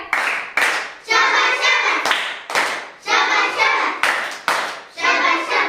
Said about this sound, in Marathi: तुमच्या उत्तरासाठी शाबासकीची टाळी घेऊया.